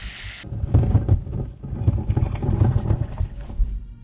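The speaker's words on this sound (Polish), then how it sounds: "No nie żartujcie, że burza idzie, no bez jaj" Thunder rolls through a storm in the video game Unearthed, deep rumbling waves that rise and fall over a few seconds, loud and close, with a brief hiss at the start and no speech.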